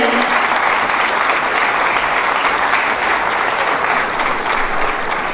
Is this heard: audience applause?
yes